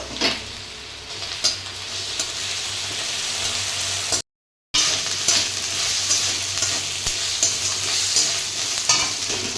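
Steady frying sizzle of onions with scraping stirs in a pan, continuous apart from a brief silent gap midway.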